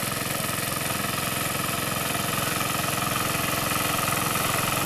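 A mower engine runs steadily on a Bermuda grass golf course, a constant mid-pitched drone with a fast pulsing beat, loud and close, no voices.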